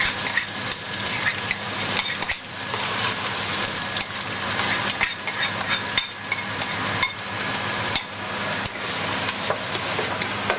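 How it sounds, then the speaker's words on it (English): Chopped onions frying in garlic-flavored oil in a pot on medium heat for spicy Chinese cabbage leaves, giving a steady, dense crackling sizzle with faint stirring taps, close and continuous with no talking. "So we're going to glaze the onions on medium heat."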